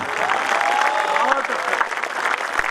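Applause rolls through the audience at a Hindi poetry recital by a poet, steady clapping with a voice speaking over it.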